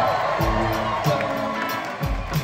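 An enthusiastic concert crowd in Seattle cheers and whoops at a show, loud and continuous with scattered shouts rising above a steady roar.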